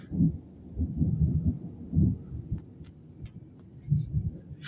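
Heavy night thunderstorm with deep rolling thunder rumbling in repeated low surges, steady and fairly close, with faint rain-like hiss above.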